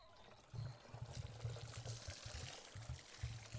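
Hot water pours steadily onto a frozen plastic chicken waterer outdoors in a snowstorm, a soft, close trickling splash that runs on in uneven bursts, quiet and alone without talk.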